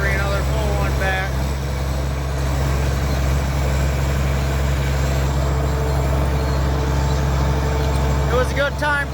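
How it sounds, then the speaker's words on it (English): A dump truck hauling chopped corn from the field rumbles steadily, a loud continuous engine drone with a deep low hum throughout, with brief voices or radio chatter near the start and end. "dump truck and run it out to the field"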